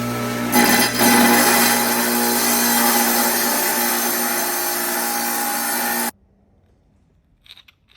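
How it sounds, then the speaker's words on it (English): A trim saw cutting bubblegum agate, a loud continuous grinding whine held for about six seconds before cutting off abruptly, followed by faint clatter. "last but definitely not least on the trim saw, we'll go ahead and cut this"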